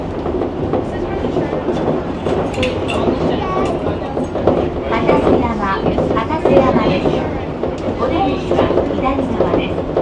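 A hanging monorail train in Japan runs along its overhead track with a continuous loud rolling rumble, metallic clatter and clinks, while voices talk in the background throughout.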